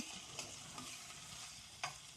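Tuna is pushed around a hot frying pan, giving a steady close sizzle with soft scraping stirs and a few sharper clicks, and no one speaks.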